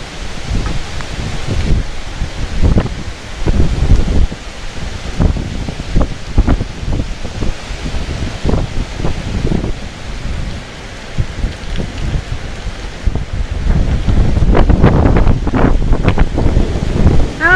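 A heavy storm lashes a small homestead: dense, steady rain pours down with gusting wind buffeting the microphone, low rumbles rolling underneath and the downpour swelling louder toward the end, with no talking.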